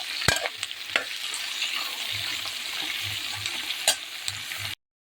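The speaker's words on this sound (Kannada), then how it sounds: "ತರಕಾರಿಗಳೆಲ್ಲ ಹಾಕಿ ಚೆನ್ನಾಗಿ ಫ್ರೈ ಮಾಡ್ತಾಯಿದ್ದೀನಿ." Mixed vegetables frying in hot oil in a pan, a steady close sizzle with several sharp scraping stirs and knocks from a spoon, no talking.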